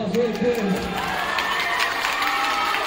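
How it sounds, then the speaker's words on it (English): A school assembly crowd bursts into loud, sustained applause with cheering and whoops, a dense wash of clapping that holds steady for the whole stretch, with scattered shouts and voices rising within it. "give yourselves one big round of applause"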